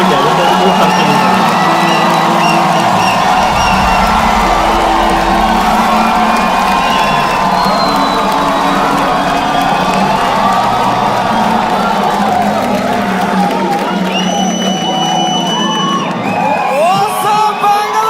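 A live stand-up comedy audience cheers, whoops and claps loudly and steadily throughout, a dense roaring crowd with shouts rising above it.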